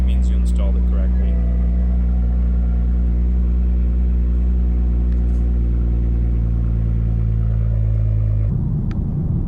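A BMW 335i F30 engine with a BMS Stage 1 tuner runs steadily with a deep, loud rumble that holds for several seconds, then shifts to a rougher, noisier tone near the end.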